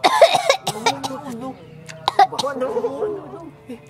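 Coughing from a man who is sick while fasting, several sharp bursts close up amid lively conversation, with voices talking around and over the coughs.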